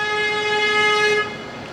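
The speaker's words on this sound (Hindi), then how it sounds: "अब जो ये बस आई है मदर एंड प्राइड स्कूल की, जानबूझ के हॉर्न बजा रहे हैं" A Mother and Pride School bus sounds its horn in one loud, steady blast of just over a second before it cuts off.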